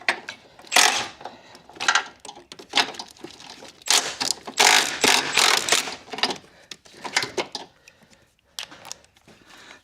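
Ratchet wrench loosening bolts during dual clutch transmission work on a 2012 Ford Focus, a run of quick, close clicking bursts in uneven clusters with brief pauses between.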